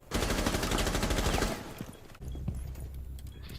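Rapid automatic gunfire from Rainbow Six Siege rattles loudly for about a second and a half, then gives way to softer in-game clatter and thumps.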